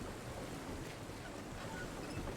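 Steady rushing water in the video game Myst 4 Revelation, a continuous broadband wash that holds at an even level throughout with no talk over it.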